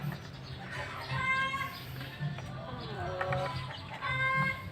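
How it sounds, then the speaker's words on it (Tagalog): Native chickens and young chicks cluck and chirp in a backyard flock, with several rhythmic clucking bursts close by and thin peeping calls between them, moderately loud over quiet surroundings. "uhaw na uhaw yung ating mga alagang sisiw"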